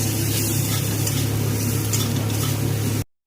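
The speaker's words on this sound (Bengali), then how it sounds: "রসুনটাকে দিয়ে পেঁয়াজের সঙ্গে ভালো করে ভেজে নেব, যাতে রসুনের কাঁচা গন্ধটা চলে যায়।" Garlic paste fries with onions in a pan, producing a steady close sizzle with a low hum underneath, cutting off abruptly near the end.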